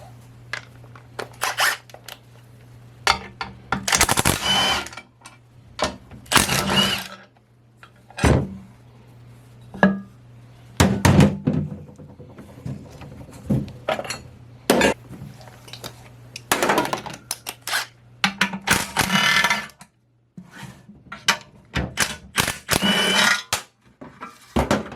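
Metal knocks, scrapes and clanks come in irregular bursts with pauses as the pan is pulled off a 727 transmission case, close and fairly sharp.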